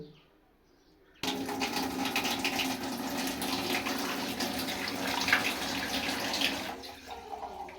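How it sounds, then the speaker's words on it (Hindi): After a quiet start, half a litre of water pours steadily into a cooking pot with a continuous splashing rush that holds for several seconds, then tapers off. "अब इसमें शामिल करेंगे पानी आधा लीटर।"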